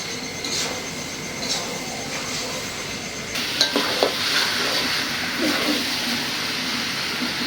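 Beef with spices being stir-fried in a pot for a Bengali beef and red potato curry: a steady close sizzle with spoon scraping and stirring, a few louder clanks of the spoon against the pot midway.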